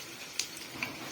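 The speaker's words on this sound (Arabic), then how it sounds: "زي ما انتوا شايفين انا طبعا بقلي البتنجان والفلفل" Eggplant and peppers fry in oil in a home kitchen while a bessara meal is cooked. A steady, soft sizzling hiss runs throughout, with two sharp spits or pops.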